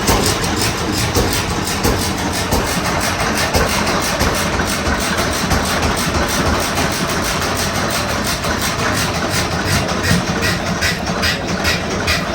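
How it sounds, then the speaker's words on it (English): An old engine runs in a 1900s-style machine shop, a steady, loud, rhythmic chugging drone that continues unbroken for the whole stretch, with no one speaking. "Hey, you need a good engine, if you want to stop, turn the fuel off."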